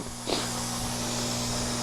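A steam cleaner working along a white baseboard beside carpet, used against bed bugs, hisses in a sudden burst, then settles into a steady, loud, close rush of steam over a low motor hum, with no talking.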